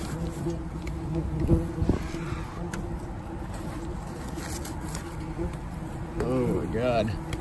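Yellow jackets swarm around a large nest being removed from a roof, with a steady insect buzz under outdoor noise and people talking close by.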